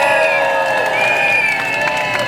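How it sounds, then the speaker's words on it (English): Crowd at a Fight for 15 rally cheering and applauding, a dense, loud wash of whoops and clapping that holds steady throughout. "Give yourselves a round of applause."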